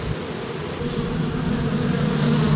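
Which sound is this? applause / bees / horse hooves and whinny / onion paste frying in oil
bees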